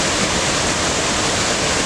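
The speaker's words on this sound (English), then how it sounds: "This is the same waterfall that the Waterfall Trail took you to." A waterfall on the McKenzie River Trail roars in a steady, dense rush of falling water, loud and unbroken throughout, with no voices over it.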